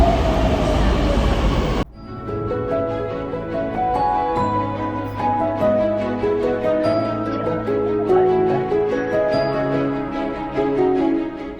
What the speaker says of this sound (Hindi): अभी आगे हमारी ट्रेन देख ही सकते हो